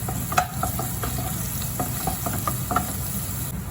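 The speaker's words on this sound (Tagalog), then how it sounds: "i-fry lang natin yung ating herbs. Tapos ilagay natin yung ating garlic." Herbs and garlic frying in a pan, a steady sizzle broken by repeated clicks and scrapes of stirring, with no talking.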